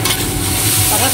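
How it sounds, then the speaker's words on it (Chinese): Tomato and egg stir-fried in a wok with soy sauce, oyster sauce, salt and five-spice powder, giving a steady close sizzle and scraping stir with a faint voice in the background. "把它翻炒均匀"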